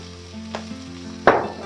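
Hot oil crackles and sizzles in a pan of pickled mustard greens for a vegetarian sour fish dish, with a loud burst of frying near the end after a quieter steady hiss.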